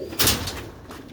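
Sialkoti black-mouthed pigeons with their young make soft, low cooing close by, with a brief fluttery burst near the start and a quiet coo toward the end.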